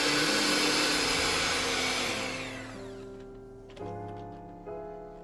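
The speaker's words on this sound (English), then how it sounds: "Whisk on medium until fully incorporated" An electric hand mixer on medium speed whisks banana bread batter with mashed banana: a loud, steady whirring drone at first that fades after a few seconds, followed by quieter tonal hums and a couple of soft knocks.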